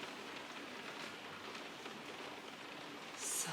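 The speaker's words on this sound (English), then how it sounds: "can you hear that rain? It's coming down heavy again." Heavy rain pours down steadily outside a home kitchen where goat's-milk cheese is being made, a faint, even hiss that continues unbroken with no voices.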